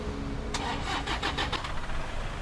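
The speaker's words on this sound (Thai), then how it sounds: "เครื่องยนต์สตาร์ทเองอัตโนมัติเลย" A Toyota Vigo pickup truck's engine auto-starts, cranking over with a quick series of starter bursts, then catches and settles into a steady idle nearby. No voices.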